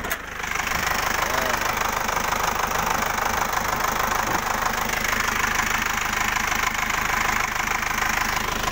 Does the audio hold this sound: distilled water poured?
no